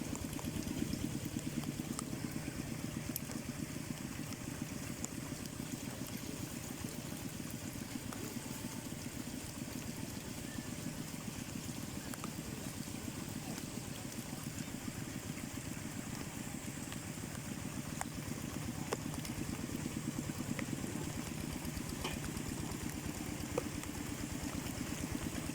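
A walking tractor's engine runs in a flooded rice field during rice planting, a steady mid-pitched idling drone that continues unchanged throughout with no voices.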